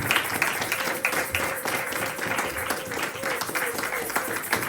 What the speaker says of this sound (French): Nous pouvons acclamer pour eux.